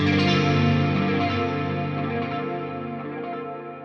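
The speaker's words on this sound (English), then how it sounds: "I have some Tube Screamer hitting the front of the amp" Electric guitar driven by a Tube Screamer into the amp, with half-note delay and effects for a post-rock sound, a sustained dense chord washing and slowly fading, loud and alone.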